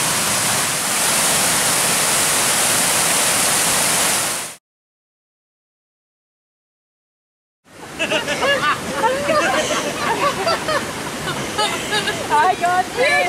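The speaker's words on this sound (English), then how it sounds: "Up there, gorgeous waterfalls all the way up here." Waterfalls tumbling down a wooded hillside path on a hot June day, a loud steady roar that cuts out for several seconds, then returns with footsteps and rustling over it.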